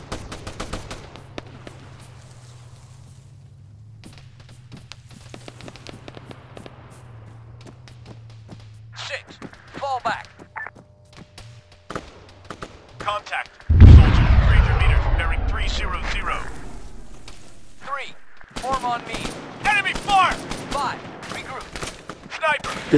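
Enemy gunfire in the video game Arma 3, scattered sharp shots and cracks, then a sudden loud burst of fire midway followed by more irregular shots, with radio-style voices talking in between.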